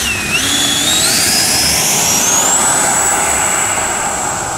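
An FMS Hawk 80mm electric ducted-fan RC jet flying overhead, a loud continuous rushing whine that sweeps upward in pitch as it passes.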